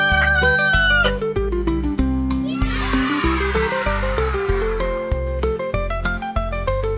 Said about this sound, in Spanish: Un gallo. ¿Cómo le hace el gallo?